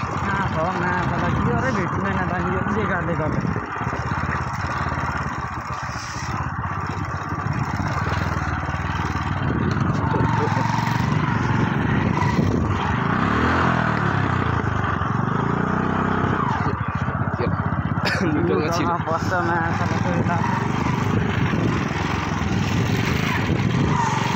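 A motorcycle strains along an unpaved dirt road through farmland at Sandakpur-3, its engine droning steadily and laboring loudly for the whole stretch, with voices mixed in underneath.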